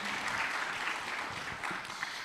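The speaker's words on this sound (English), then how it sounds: "Another round of applause for our DG." Dense applause from a conference audience honouring the Director General at a national statistics conference, a steady wash of many hands clapping at moderate level throughout.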